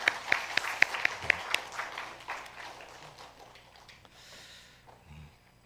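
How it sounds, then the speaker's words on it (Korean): Scattered applause in a church during a New Year thanksgiving service, a few sharp claps up front that quickly thin and fade into the room's quiet. "우리 다시 한번 들어가실 때 박수해 주시기 바랍니다."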